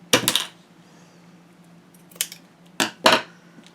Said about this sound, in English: I'm going to cut a strip to go top to bottom, and that'll cover up that little seam